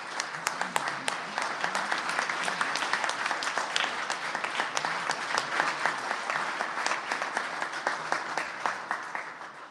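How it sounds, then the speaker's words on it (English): Applause fills a Senate chamber, with individual claps distinct and crisp, moderately loud and steady for about ten seconds, the rhythm thinning slightly toward the end. "if we would all stand and give them a round of applause."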